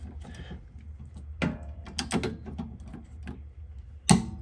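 Mechanical clicks and metallic taps while a sway bar bolt is tightened on a 2010 Honda CR-V, a handful of irregular ratchet-like ticks ending in a sharper click.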